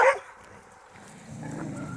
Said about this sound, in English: those were the dogs that I read about on Facebook